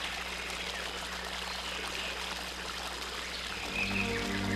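A forest stream flows gently with a soft, steady trickling and babbling wash of water, continuous and moderately quiet, with a faint tonal hum rising toward the end.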